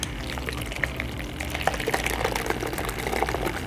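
Makeup brush bowl cleaner spinning a brush in soapy water, a steady close whirring churn with splashing and bubbling liquid, the brush jostling unevenly throughout.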